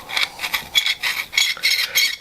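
Brass 6.5x55 rifle cases are trimmed to length with a hand trimmer, a bright, rhythmic metallic rasping of short repeated cutting strokes, close and clear with no talking.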